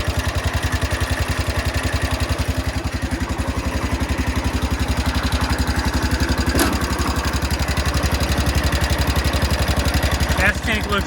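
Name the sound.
Cub Cadet lawn tractor engine running after cold start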